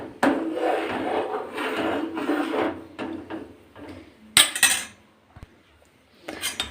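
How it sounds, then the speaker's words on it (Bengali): Payesh, Bengali rice pudding, being stirred in a pot at home, giving scraping, rubbing strokes of a spoon against the pot in several close bursts with brief pauses between them. "পায়েসটা আবার কিছুক্ষণ পরে এসে আবার একটু নাড়লাম"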